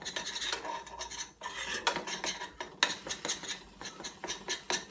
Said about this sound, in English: Combine the flour and the butter with a spoon or a whisk.